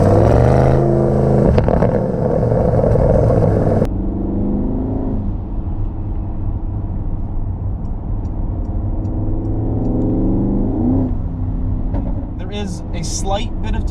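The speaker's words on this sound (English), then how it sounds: "So the backfire in the exhaust system, being that this does have the sport exhaust," Porsche Cayenne Turbo S E-Hybrid with sport exhaust revving hard, then easing off into a lower drone with crackling exhaust pops, while someone talks over it.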